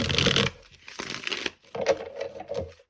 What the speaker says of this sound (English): All right, one last shuffle here.